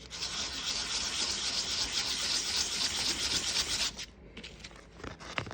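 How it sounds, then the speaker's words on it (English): 220 grit sandpaper rubs steadily against the cut edge of a copper penny in a continuous hissing scrape for about four seconds, then gives way to a few short, quieter strokes. "So we're gonna sand with some 220 grit sandpaper."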